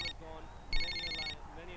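A cordless home telephone rings with two short electronic trills, the second longer, heard indoors at moderate level against faint room noise.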